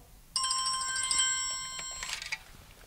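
A telephone ringtone plays as one loud, bright electronic burst of about two seconds, starting abruptly and then trailing off, with no voices.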